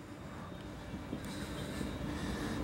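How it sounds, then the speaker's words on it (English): A London Midland class 350 electric train running near the listener as a steady, continuous rumble of wheels and rail noise, without clear voices. "Right, let's board this train."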